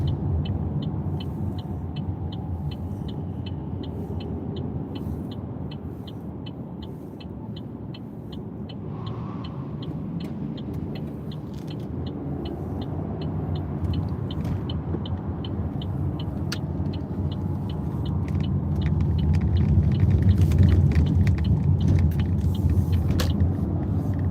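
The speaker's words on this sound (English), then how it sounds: "More traffic here now." Steady road traffic rumbles by, with cars passing one after another and the flow growing louder and heavier toward the end, alone without voices.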